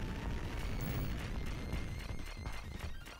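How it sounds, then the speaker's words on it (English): Dense, continuous booming blasts from the run-and-gun video game Contra Hard Corps, a loud rumbling barrage of overlapping explosions with crackling debris, steady throughout with no pause. "Avoid those explosions every time."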